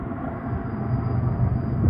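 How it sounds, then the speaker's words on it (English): Freight train rolling through the Tehachapi Loop on a mountainside, heard from a distance as a low, steady rumble that slowly builds in loudness, with no voices. "the train coming from over there, going under the loop, and then going over to here"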